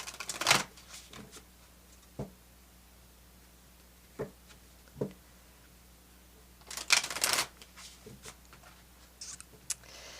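Tarot cards are shuffled and drawn in a quiet room: a few short riffling bursts and scattered soft taps and flicks, separated by silent pauses, close and fairly soft.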